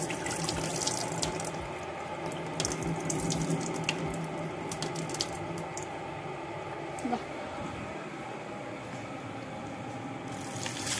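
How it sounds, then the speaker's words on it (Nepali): Water from cooked rice is poured off into a sink, a steady close running-water rush with faint clinks of a pot. It eases off near the end. "अनि म यो चामलको पानी फाल्छु"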